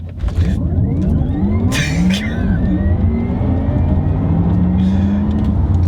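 A car capable of 0 to 60 mph in 2.6 seconds accelerates hard from a standstill, engine roaring loud and rising in pitch as it speeds up, with a couple of brief shifts along the way.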